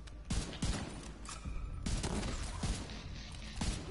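Incendiary rounds firing in a firefight in The Division 2, a dense rapid burst of shots over a loud roaring background, with a few heavier cracks standing out, close and continuous throughout.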